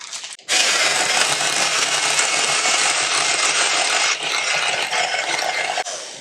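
An electric mixer blends about 4 ounces of cream cheese into a twice-baked potato filling, a loud, steady whirring drone that starts abruptly, holds for several seconds and dips briefly near the end, close up with no talking.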